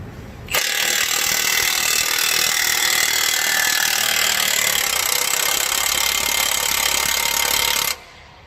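Milwaukee impact wrench driving a 28mm deep impact socket in one continuous, loud, buzzing hammering burst of roughly seven seconds, close up, starting and stopping abruptly with no speech.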